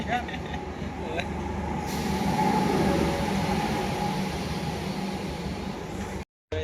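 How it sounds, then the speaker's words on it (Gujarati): A train rumbles in slowly with a steady low roar and airy hiss, fairly loud and continuous, before cutting off abruptly. "5 ને 2 ટ્રેન આવી આપણી. ધીરે ધીરે ધીરે ધીરે."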